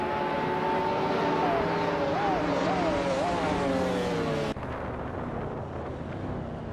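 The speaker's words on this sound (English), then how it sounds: "the race just kicked off at Barcelona Moto. Giannetti starting in pole position behind the wheel of a classic 1993 Ford Mustang SVT Cobra" A 1993 Ford Mustang SVT Cobra races at Barcelona, its loud, sustained engine note sweeping and wavering in pitch before it cuts off abruptly, with broad roaring noise and steady wind around it.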